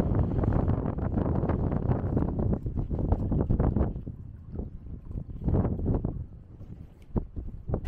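Gusty wind buffets the microphone on a hotel balcony in Santorini, Greece, a loud continuous low rumble that surges and eases in waves.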